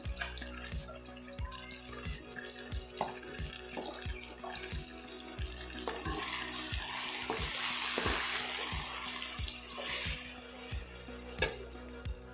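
Vegetables for a veg pulao frying in a pan with salt and turmeric, steady sizzle under repeated sharp stirring clicks from a utensil against the pan, the frying growing brighter and louder midway.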